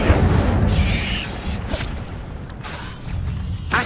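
A fire spell cast in the video game Hogwarts Legacy on hard difficulty, a dense booming whoosh of flame with thuds and bursts layered over steady game rumble, loud and close throughout.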